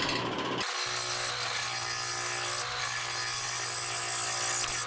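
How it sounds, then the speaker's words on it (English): A wood lathe spins a heavy, unbalanced red oak crotch bowl blank held on a worm screw with tailstock support, giving a steady loud mechanical whir with a low hum and rattling shake after a brief quieter start. "you can see how much it's shaking the lathe right now"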